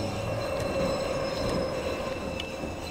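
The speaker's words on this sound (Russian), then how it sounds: "Поезда работают," A subway train runs steadily through a tunnel in the Garry's Mod Metrostroi rail simulator, a continuous close rumble of rolling wheels with a faint squeal, without talk.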